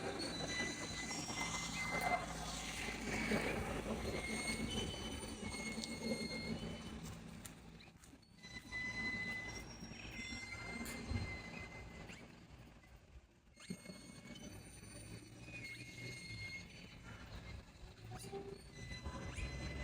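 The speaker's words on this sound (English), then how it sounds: "It's a squeaky old windmill." Metal squeals and creaks in long drawn-out tones from a squeaky old windmill at Lara Wetlands, repeating irregularly over a constant outdoor rumble.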